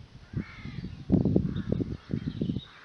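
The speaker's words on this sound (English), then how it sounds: "There are lots of other birds." Crows caw repeatedly in an open field in mid-May, a series of rough, hoarse calls in irregular bursts, moderately near and clearly audible over a quiet outdoor background.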